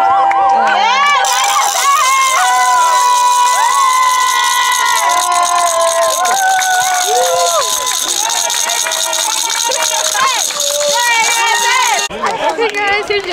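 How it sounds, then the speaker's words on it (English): A crowd at a school soccer senior night cheers and shouts continuously, with many high, excited young voices overlapping at close range before the noise drops off abruptly. "we're about to cheer for Genesis"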